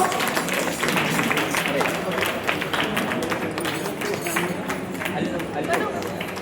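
Loud, steady applause from the audience at a seventh anniversary program, many hands clapping densely and continuously with crowd murmur mixed in.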